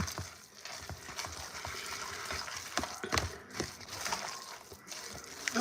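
Patties frying in hot oil, a steady soft sizzle with crackles and occasional spatters, moderately close and fairly quiet, with faint kitchen clatter.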